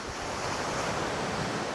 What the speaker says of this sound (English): But that wind is rather tricky.